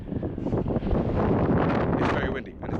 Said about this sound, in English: It's very windy and it's very cold.